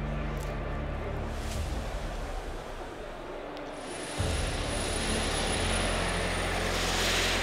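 Destinus Eiger, a second prototype aircraft, flying past with a steady engine drone that holds loud and constant before strengthening and brightening midway through, alone without talk.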